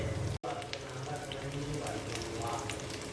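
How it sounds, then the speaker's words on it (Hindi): Spicy chicken fries in a pan with a faint, steady sizzle and light crackle, broken by one brief dropout near the start. "इस तरह से मेरा अभी फ्राई होगा।"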